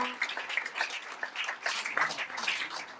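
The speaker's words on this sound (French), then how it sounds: "Elle est là et on l'applaudit." An audience applauds at a political campaign launch gathering, a steady patter of many hands with a voice carrying over it.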